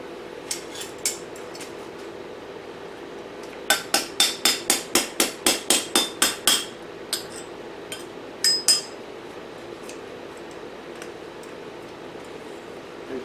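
Hot metal casting knocked loose from a casting flask: a rapid run of about a dozen sharp metallic clanks, followed by scattered clinks and a few softer knocks, close and fairly loud with no talk.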